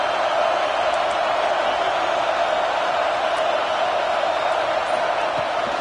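A large football stadium crowd at an Ohio State vs Notre Dame game roars with a steady, dense wash of cheering and noise that holds at a constant level throughout, with no distinct voices standing out.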